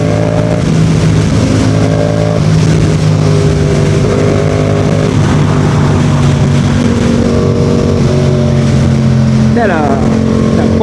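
A Yamaha MT07 motorcycle cruises on a highway with a loud, steady engine drone and rushing wind, its pitch shifting slightly as the throttle changes and rising briefly near the end.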